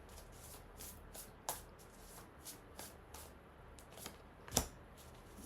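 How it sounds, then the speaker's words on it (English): A deck of tarot cards being shuffled by hand, a soft papery riffle of quick flicks with one sharper slap near the end, close and quiet with no talking. "You saw me shuffle."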